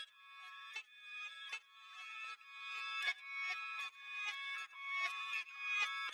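A dark sample loop, cloned and pitched up an octave with volume automation, plays as quiet, bright, chopped tonal bursts in a regular rhythm, each swelling then cutting off, with no voices.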